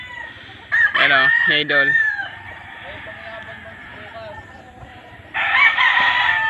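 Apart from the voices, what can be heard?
chickens clucking and rooster crowing on a farm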